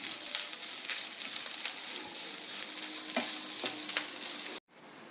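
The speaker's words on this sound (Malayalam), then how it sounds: "ചുവപ്പ് നിറാവുന്നത് വരെ വറുക്കണം." Grated coconut frying in hot coconut oil in a pan, a soft steady sizzle with occasional stirring scrapes, faint and close, ending abruptly.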